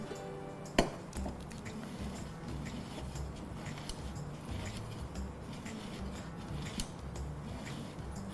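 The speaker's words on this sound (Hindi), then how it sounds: "तो इस तरह से बारीक हमें इसको कद्दूकस करना है" Paneer rubbed finely across a fine-holed grater for gulab jamun, a steady run of soft rasping strokes close by, with a sharp metallic clink near the start; no talking.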